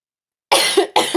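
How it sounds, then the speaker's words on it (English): Two harsh coughs, close and loud, one right after another following a moment of silence. "I still have like a bad cough."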